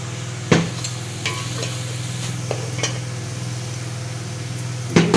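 Whole spices fry in vanaspati ghee in a pot for Karachi biryani, giving a steady loud sizzle broken by several sharp clinks and scrapes of a spoon against the pot, with no talking.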